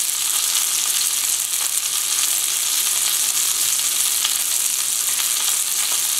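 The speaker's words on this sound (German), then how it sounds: "Einfach nur braten lassen." Cod fillet fries in a pan, hissing and crackling with a steady bright sizzle, close and unbroken, no voices.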